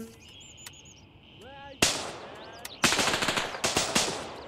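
Bursts of automatic gunfire in the military shooter Gray Zone Warfare, loud sharp volleys arriving in several rapid clusters after a quieter stretch of game ambience, with a voice speaking briefly early on.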